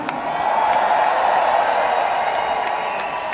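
A concert crowd at a show during Escalation Fest in Oberhausen applauds and cheers in a steady, dense wash of clapping and shouts, loud and sustained throughout.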